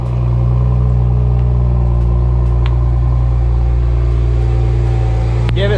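A BMW 1M E82 that has been lowered idles and pulls away at the start of a test drive, a loud continuous low engine drone heard from close by with no speech.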